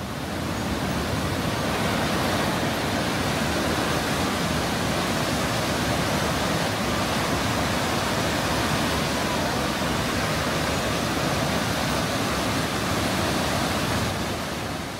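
Iguazu Falls in Brazil pours down with a massive, steady roar, a dense unbroken wash of water noise that stays loud and constant throughout.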